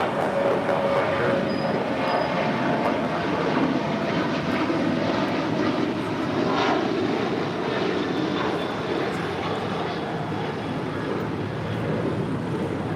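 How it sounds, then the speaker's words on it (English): An Alaska Airlines Boeing 737-900ER departing for Portland produces a steady, broad jet engine roar that holds at a constant level throughout, heard from a distance with no talk. "This is Alaska Airlines Flight 1127 departing to Portland on a 737-900 ER."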